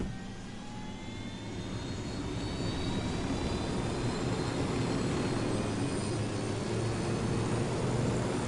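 A helicopter flies in the Ghost Recon Wildlands video game, a steady dense engine and rotor roar that swells slightly and holds loud throughout, with no talk.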